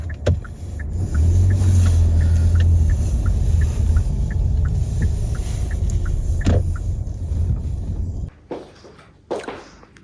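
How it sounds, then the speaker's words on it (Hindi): An oncoming car on a Lahaul Valley mountain road between Sissu and Jispa rumbles steadily past close by, its engine drone loud for several seconds before dropping away into quieter surroundings with a few sharp knocks. "सामने से आ रही है गाड़ी, इसको निकलने देते हैं।"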